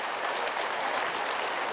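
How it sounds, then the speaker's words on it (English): Audience clapping at the close of a Stockdale Center leadership lecture: a brief, even patter of many hands, steady and moderately loud, with no talking. "clap for it a little"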